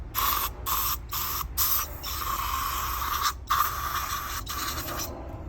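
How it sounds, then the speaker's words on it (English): Several short bursts of carburetor cleaner spray hiss close by on a Suzuki GSX-R motorcycle fuel pump, separated by brief pauses, followed by a longer continuous spray. "We're going to spray just a little bit of carb cleaner in here."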